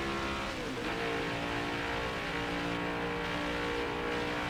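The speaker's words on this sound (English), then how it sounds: "And we got that new next-gen sound there as the cars come running up." NASCAR Next Gen race cars in the game NASCAR Heat 5 roar steadily as a pack runs up together, a loud sustained engine drone with layered harmonic whine and no talk over it.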